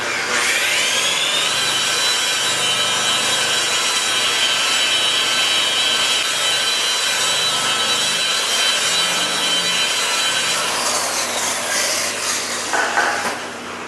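A rotary buffer polishing the cut paint on a Z71 truck, a constant loud whirring drone with a hissing, rubbing edge that runs unbroken for the whole stretch and shifts slightly near the end.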